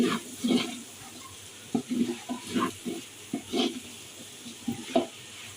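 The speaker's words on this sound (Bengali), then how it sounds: "বাঁধাকপি করছি এবার এটাকে ভালো করে নেড়ে চেড়ে নিচ্ছি" Cabbage for fried rice is stirred and tossed in a pan, giving irregular bursts of scraping and shuffling strokes with a light sizzle underneath, close and fairly soft.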